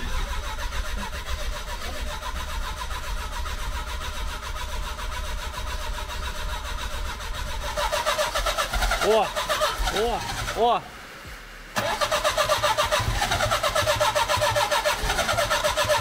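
An abandoned car's engine cranks over, catches and is revved several times with a brief cutout, close and loud, while someone speaks briefly over it.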